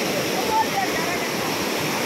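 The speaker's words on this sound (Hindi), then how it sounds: "पानी इतना तेज़ है" Fast water rushing through a big canal in Lahore, a continuous broad roar with a steady level throughout, heard close by with no clear talking.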